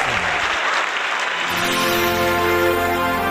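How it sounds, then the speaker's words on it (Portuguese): Sustained applause from a large crowd at a religious service, dense clapping that continues throughout, with a musical tone rising under it midway. "um forte aplauso"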